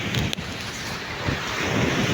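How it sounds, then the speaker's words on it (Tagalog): Ocean waves churn steadily under strong northeast monsoon wind, a continuous rushing wash with heavy wind buffeting on the microphone and no voices. "Kita nyo naman oh, ang alon."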